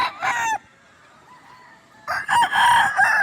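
A rooster crows loudly nearby in two bursts separated by a short quiet gap, its call harsh and strained.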